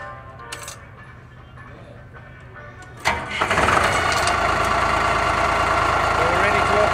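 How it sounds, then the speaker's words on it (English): After a quiet hum and a small click, a small engine on a US Jetting water jetting machine cranks and catches at once, then settles into a loud, steady idle. "switch the engine on"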